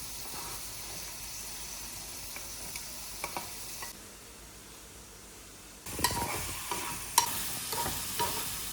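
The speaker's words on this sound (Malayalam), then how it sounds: "അപ്പോൾ ഇതൊന്ന് ഇവിടെ ഇതൊന്ന് ഫ്രൈ ആവട്ടെ" Sandwich filling fries in a pan with a steady sizzle and occasional stirring scrapes. The sizzle drops to a quiet hiss midway, then comes back louder with sharper clatters of the spatula.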